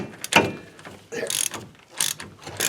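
A 13 mm ratchet wrench turns on an axle nut of a Ford F150 4x4, giving close, quick bursts of clicking pawl ratchets separated by short pauses.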